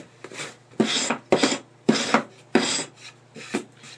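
Scraping a new wood board to distress it, six rhythmic rough rasping strokes about half a second apart, close and loud with nothing else.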